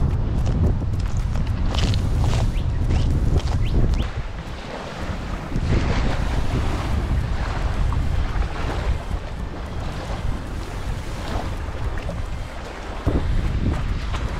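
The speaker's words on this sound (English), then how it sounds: "You get over here and it's absolutely blowing a gale." Strong gale-force wind roars steadily into the microphone at Taylors Lake's east side boat ramp, with a constant loud rush and whitecap waves splashing beneath it, and no voices.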